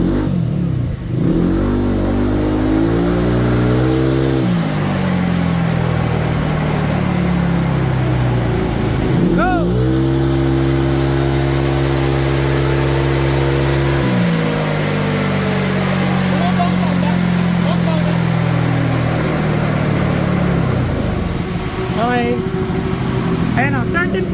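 A motorcycle engine on a dyno run revs hard through repeated high-RPM pulls. The loud, sustained roar rises and drops between runs, with people talking over it.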